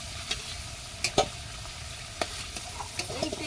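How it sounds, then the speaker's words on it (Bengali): Potato pieces fry in hot oil in a village kitchen, a steady soft sizzle broken by occasional spoon clicks and taps against the pan. "আলুটা দেখো বন্ধুরা ভাজা হয়ে গেছে"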